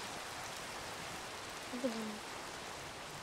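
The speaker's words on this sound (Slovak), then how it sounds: "Tu začal pršať." Steady hiss of rain falling in a block-building survival video game, even and continuous throughout with a brief faint tonal blip near the middle.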